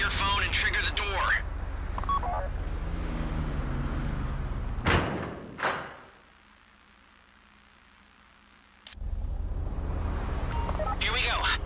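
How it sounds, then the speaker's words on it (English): Phone dialing tones and a heavy door release sound as a vault door is triggered during a bank heist in GTA Online, followed by a lull before loud game ambience returns. "Take out your phone and trigger the door."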